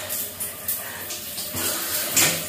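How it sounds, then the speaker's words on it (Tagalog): Shower water runs and splashes close by in surging bursts, with no voices over the flow. "Shower tayo."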